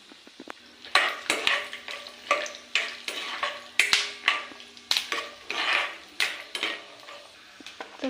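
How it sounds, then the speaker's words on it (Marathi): Peanuts roasting in a little oil in a kadhai, stirred with repeated scraping and clinking strokes against the metal over a soft steady sizzle, close and fairly quiet, no talking. "आता कढईमध्ये थोडंसं तेल घालून घेतलेली आहे. थोडंसं शेंगदाणे भाजून घेऊया."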